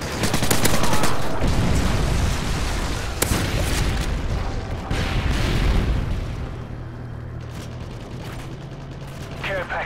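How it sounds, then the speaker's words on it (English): Predator missile strike in Call of Duty MW3, loud booming explosion and rattling gunfire bursts up close, fading into quieter rumble, with voices talking over the action. "Friendly Predator missile inbound."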